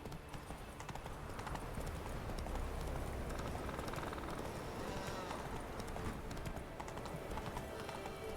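Horse galloping with steady clip-clop hooves in The Witcher 3 video game, a continuous loud rhythmic beat over ambient game sound and music for the whole stretch.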